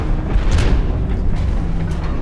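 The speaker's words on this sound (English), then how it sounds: "Hey, look, the grenade launcher killed something." A grenade launcher blast in the mech combat game Hawken, heard as a loud, heavy low-end boom that rumbles across the whole short moment with no talking.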